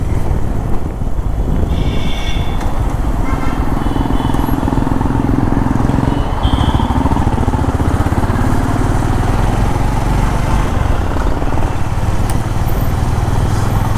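A Honda CB 350 motorcycle engine drones steadily while riding, a continuous loud close rumble heavily mixed with rushing wind buffeting the microphone, with slight shifts in pitch as speed changes.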